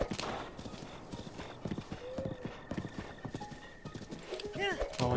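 Horses galloping in The Legend of Zelda: Breath of the Wild, with a steady run of hoof clip-clops and a brief whinny near the end, all under continuous game music and ambience.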